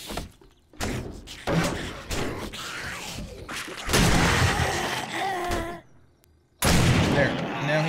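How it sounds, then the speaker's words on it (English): A shotgun fires several loud, booming blasts, spaced a few seconds apart, in the zombie survival video game 7 Days to Die, with someone talking in between. "Have our chance to use our shotgun here."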